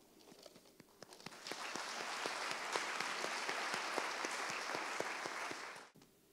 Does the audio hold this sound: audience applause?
yes